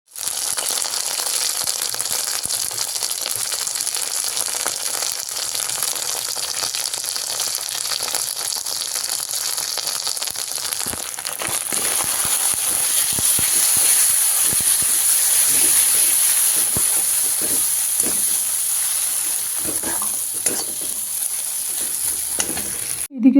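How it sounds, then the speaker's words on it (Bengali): Ginger and cumin spice paste fries in hot oil for a Bengali rui fish curry, giving a continuous close sizzle and hiss with scattered crackles and stirring scrapes, no talking. "আর বেশ ভালো করে এই মশলাটা একটু কষিয়ে নেব।"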